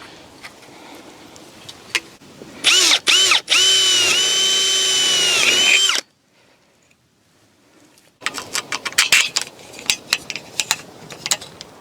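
An electric drill working on a mounting bracket gives a loud, steady, high whine for about three seconds, framed by scattered knocks and clatter before and after, with a short quiet stretch in between.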